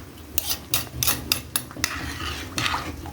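A spoon stirs rice just added to a pot of boiling soup, giving a series of sharp metallic scrapes and clinks against the pot in an irregular rhythm, close and fairly loud over a low simmering background.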